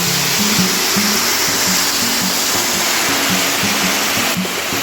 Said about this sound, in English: when you're adding water to any meat that's been cooking, you don't want to add cold water